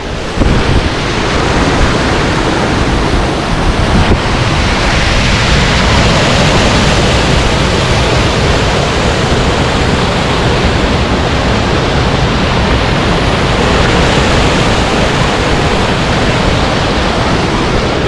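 Broad, steady roar of rushing water from a large High Sierra waterfall along a Yosemite trail near Glen Aulin, loud and continuous with wind buffeting the microphone throughout.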